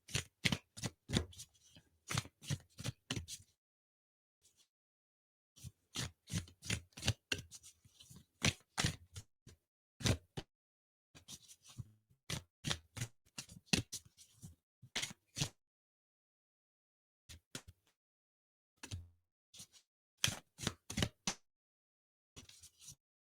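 Rebecca Campbell Healing Waters oracle cards are shuffled by hand in repeated quick bursts of riffling and flicking, close and fairly soft, separated by short pauses.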